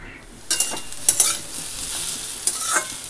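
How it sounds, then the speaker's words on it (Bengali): Potatoes and onion frying in a pan for breakfast, a steady sizzle broken by several louder stirring scrapes and spatula knocks, close and with no talking. "আলু ভাজা পেঁয়াজ দিয়ে করব সকালে খাওয়ার জন্য।"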